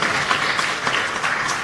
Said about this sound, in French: Est-ce qu'on peut applaudir pour monsieur?